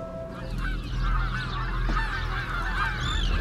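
A flock of migratory birds near a remote island village by the sea honks like geese, with many overlapping calls sounding continuously and loudly throughout.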